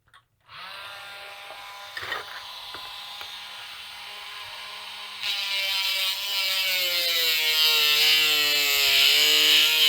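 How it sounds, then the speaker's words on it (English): A Dremel rotary tool with a cutoff wheel spins up and cuts into the metal of an ammo can, giving a high, whining grind that grows louder and harsher as the cut goes on. "So I'll use the Dremel with cutoff wheel, and I'll cut across"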